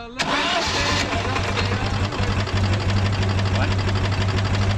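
A 1968 Citroën Dyane 6 cranks and fires into a steady, close mid-pitched engine run with a rhythmic low pulse, lasting throughout at a fairly loud level.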